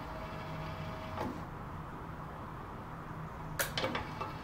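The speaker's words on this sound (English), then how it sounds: "So now this is the motor going back to its open position" A FAAC gate motor run by an E124 control board drives the gate back toward its open position, giving a faint, steady electric hum and whine with a few light clunks near the end.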